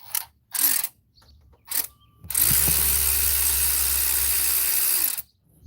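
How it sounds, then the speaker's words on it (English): An electric ratchet backs a bolt out while a coolant leak on a Ford is being diagnosed. Two short clicks come first, then one loud, sustained whir of about three seconds at close range. "Now I can take it off with the electric ratchet."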